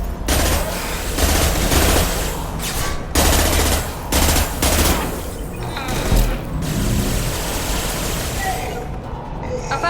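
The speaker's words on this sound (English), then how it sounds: "Firing an impact shot." Heavy gunfire from an impact shot in a Mass Effect style squad shooter, loud sustained bursts and booming volleys running almost continuously, with battle noise and voices underneath.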